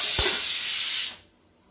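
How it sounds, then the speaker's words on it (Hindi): A pressure cooker whistles in a home kitchen while oats khichdi cooks: one loud, sharp steam hiss that holds for about a second, then cuts off abruptly and fades. "तो अभी देखिए सीटी आने वाला है"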